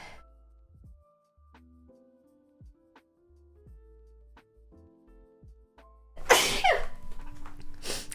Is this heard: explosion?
no